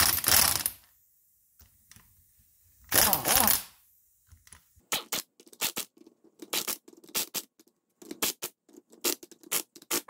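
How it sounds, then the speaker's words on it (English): Ratchet tightening the brake caliper bolts on a 1984 Mercedes 300SD W126 during a Bendix caliper rebuild, giving a series of short, close, sharp metallic clicking bursts after some louder handling noises near the start. "let's tighten this rascal down"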